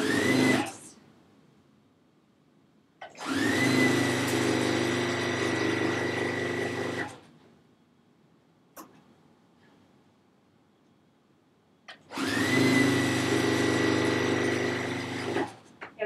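A Juki sewing machine stitches silk pieces backed with stabilizer, running in fast, steady whirring bursts close by: one brief run, then two longer runs of a few seconds each, separated by quiet pauses.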